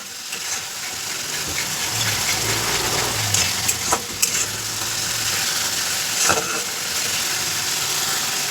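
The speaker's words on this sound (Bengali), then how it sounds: "মশলাটা প্রায় লাল হয়ে এসছে এখনও আটটু হালকা হালকা লাল হয়েছে তো চলো আটটু লাল করি তো মশলাটাকে কিছুক্ষণ ধরে নাড়বো" Masala spices sizzle steadily in a hot pan while a utensil scrapes and stirs, with occasional sharp clinks over the continuous frying hiss.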